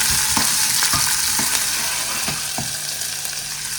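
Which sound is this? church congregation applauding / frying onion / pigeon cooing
frying onion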